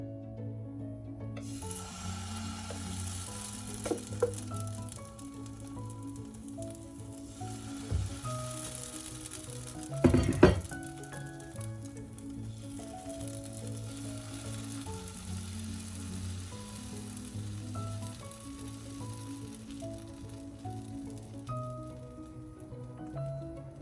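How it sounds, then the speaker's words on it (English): Mung bean wrap batter spooned into a frying pan over medium heat, giving a steady soft sizzle throughout with a few scraping and tapping sounds, one louder clatter midway. "just heat the pan up to medium heat, and then spoon some of this mixture in"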